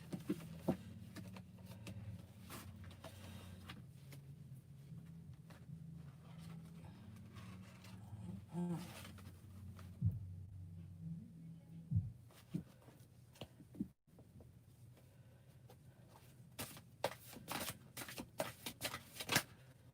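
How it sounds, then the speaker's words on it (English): Close, soft shuffling and riffling of a deck of large tarot cards, repeated in bursts with small taps and rustles, no talking. "these cards is big, so I'm gonna have to shuffle them a little different"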